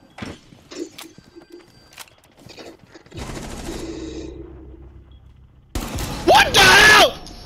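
Rapid bursts of video game gunfire, loud and dense near the end, amid game noise and a voice that talks briefly early on.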